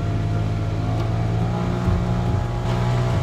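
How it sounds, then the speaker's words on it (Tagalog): A tuktuk tricycle engine labors up a steep road, a loud, steady droning rev with a low throb that holds throughout and has no talk over it. "Lakas ng tricycle. Lakas nung tricycle ni Kuya."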